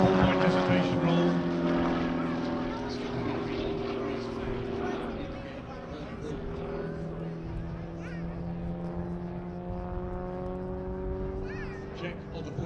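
A model aerobatic aircraft at an airshow flies a display, its propeller engine droning steadily with shifting pitch as it maneuvers, while an announcer talks over it.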